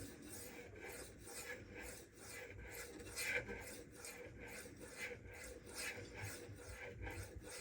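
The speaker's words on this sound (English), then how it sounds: "So what I'm going to do is jump from the 1K stone to the Venev diamond." A Custom Knife Factory Rotten Design Evo 4.0 Damasteel knife is stroked across a 2500-grit Venev diamond stone, giving soft, close, evenly repeated scraping passes throughout.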